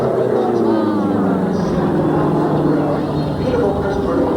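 An aerobatic airplane at the 1994 Quonset Point air show drones loudly and steadily through quarter rolls and vertical lines, with an announcer commentating over the engine.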